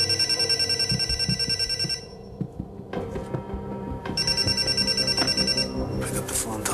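A telephone rings in loud repeated electronic bursts, pauses briefly, then rings again, with faint background noise between rings.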